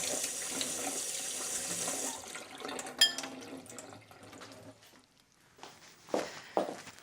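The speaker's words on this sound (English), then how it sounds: "just drain your rice through a sieve and then hold under a cold running tap just to get rid of any excess starch" Cold tap water runs over drained rice held in a sieve, a steady hiss of flowing water that fades out, followed by a few faint clinks and handling knocks, quiet and close.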